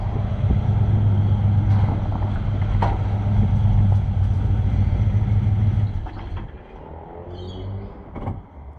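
Interior drone of a car driven home after an overheating breakdown, a steady low engine hum and road rumble for several seconds that then eases off, ending with a few soft clicks and knocks.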